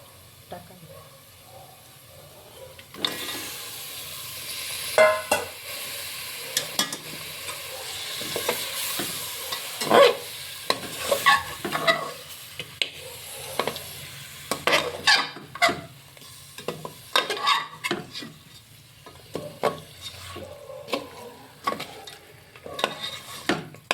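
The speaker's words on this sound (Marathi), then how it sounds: "आपले मसाले मस्त तेलात फ्राय झालेले आहेत तर आपण आता त्याच्यामध्ये शिजवलेलं मटण टाकून घेऊ" Cooked mutton tipped into spices frying in oil, then stirred with a spoon scraping the pot in quick repeated strokes over a bright sizzle, close and continuous with some faint background voice.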